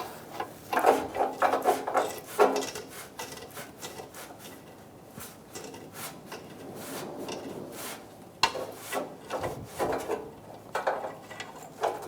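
A downstream O2 sensor is unscrewed by hand from a 2014–2019 Kia Soul 1.6L L4, giving soft scraping, rubbing and light metallic clicks in irregular bursts, close and quiet with no talk.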